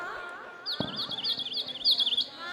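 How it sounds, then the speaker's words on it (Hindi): Small birds chirp in the morning, a quick series of high, wavering tweets repeating over a couple of seconds, clear and fairly close, with a dull thump early on and no talking. "पक्षी चहचहा रहे हैं।"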